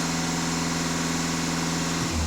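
Volkswagen Passat B8 2.0 TDI diesel engine, which has a diesel particulate filter fault, held at steady elevated revs with a continuous loud drone, shifting down toward idle near the end, with no talk.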